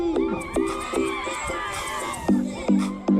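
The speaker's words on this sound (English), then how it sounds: "A round of applause, ladies and gentlemen, as we welcome the Drua" A crowd cheers and shouts, with repeated short bursts of horn-like blasts over a lively, noisy background.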